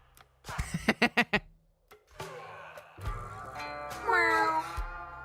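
A voice imitates a chorus of cats meowing together in the video game Sushi Ben, a quick burst of four or five pitched meows followed by longer, drawn-out mewing calls, fairly loud and close.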